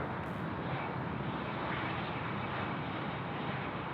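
Airliner taking off at Sydney Airport, a broad continuous engine roar that holds steady and loud throughout, heard alone from a distance.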